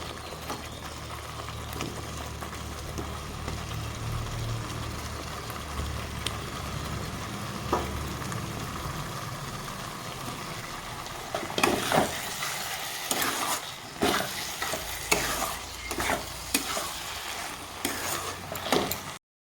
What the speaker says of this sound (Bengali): মশলার সাথে চাউল ভালোভাবে কষানো হয়ে গেছে